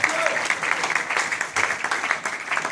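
An audience at a youth conference in a hotel breaks into sustained clapping, a dense, lively applause of many hands with rhythmic swells, close and fairly loud.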